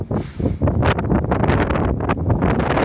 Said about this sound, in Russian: очень холодно и ветер дует